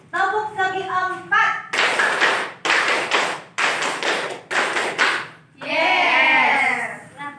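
Schoolchildren in a classroom perform a rhythmic clapping routine, chanting between four sharp bursts of crisp, loud claps, then shout together at the end. Their young voices are heard throughout.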